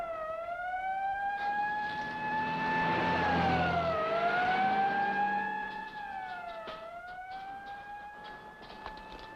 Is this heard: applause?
no